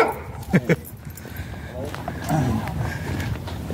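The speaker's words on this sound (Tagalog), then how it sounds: "May aso. Malaki yung aso." A big dog lets out two deep, loud barks near the start, followed by background noise and muffled movement.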